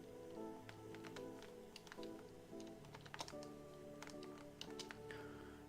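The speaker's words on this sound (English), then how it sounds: "I'm still typing on a sticky 2009 Rocketfish." Steady, quiet clicking and tapping of keys on a sticky 2009 Rocketfish computer keyboard, with irregular bursts of keystrokes heard close up and no voices.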